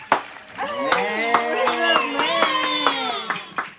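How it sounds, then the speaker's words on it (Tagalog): A few people clapping for Lia in an informal setting, sharp separate hand claps scattered over a voice that keeps singing or speaking melodically throughout. "bigyan naman natin ng palakpak"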